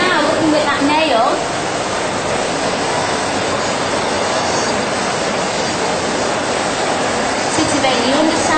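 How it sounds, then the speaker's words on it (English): A nail dust suction extractor pulls up airborne acrylic dust with a loud, steady broadband whoosh of airflow, close and constant throughout, with faint voice traces at the edges. "It's the airborne dust that the suction is picking up."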